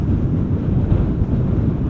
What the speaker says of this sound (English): Wind's now blowing perpendicularly to a big surface of my camera and my mic